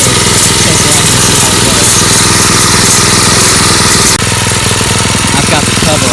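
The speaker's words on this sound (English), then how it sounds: "When you run this tiller, it pulls a lot harder, and it actually runs a lot quieter than the Honda did." Cub Cadet garden tiller repowered with a Harbor Freight Predator engine runs steadily and loud close by, a constant mechanical drone through the whole stretch while someone talks over it.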